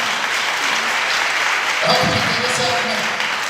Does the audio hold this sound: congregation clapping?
yes